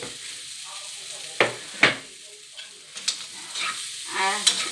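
Maggi-spiced mixture stirred in a pan, a steady low sizzle of frying with a few sharp scraping clatters of the spoon against the metal, close and fairly loud with no talk.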